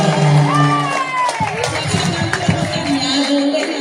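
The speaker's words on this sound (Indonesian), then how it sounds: "Tepuk tangan dulu." A crowd at a school commemoration event at SD Negeri Jelambar Baru 01 in Grogol Petamburan, West Jakarta, cheering and clapping loudly. The noise is continuous, with mixed shouts and babble throughout.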